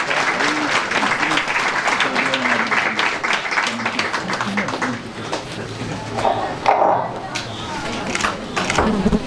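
Audience applause at a church association event at a Romanian monastery, a dense, steady patter of many hands filling the room at close range, with voices talking over it throughout.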